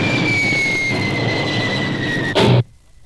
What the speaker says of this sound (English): check black button number five landing rocket that will slow your ship to the ground